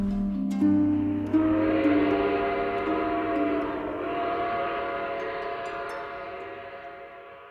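A train whistle at the Aguascalientes railway workshops blows a long, sustained harmonic blast, slowly fading as the train rumbles along underneath.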